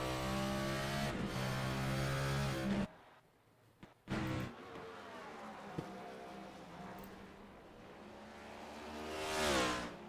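Race car engine from a racing video game at Sonoma, held at partial throttle with rising and falling revs out of the turns, loud and close, with a short gap in the middle.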